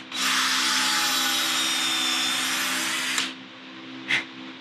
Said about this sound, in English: I'm going to ream this just a bit